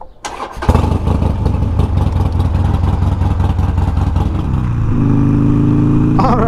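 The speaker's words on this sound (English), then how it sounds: "Alrighty, let's fire it up and get out to the shop." A Harley Sportster motorcycle starts with a cranking stutter, then settles into a loud, close, lumpy idle that runs on steadily, with a brief spoken word near the start.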